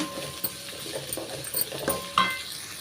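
Chopped green chillies sautéed with salt in a hot pan, with a spoon scraping and stirring in short close strokes over a gentle sizzle, with no talking.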